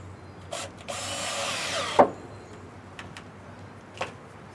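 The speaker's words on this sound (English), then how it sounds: "Handy dandy drill, 5/16 inch bit." A power drill fitted with a 5/16 inch bit tightens the clamp on a no-hub coupling on a sump pump pipe, giving a short whirring burst followed by a sharp knock and a few faint clicks.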